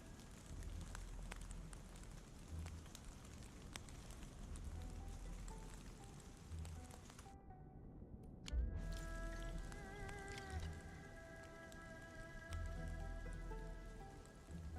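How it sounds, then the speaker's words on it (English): Steady rain patters and drips continuously in an in-game recording from the video game Endfield, faint and even, with a brief break in the middle before the rainfall resumes. "Endlessly the raindrops fall. Tippy, tippity tap, drippity drop."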